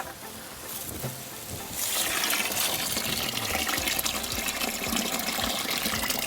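Water is poured over eggplant seeds to winnow them, starting softly and then swelling into a strong, steady gushing pour that continues to the end.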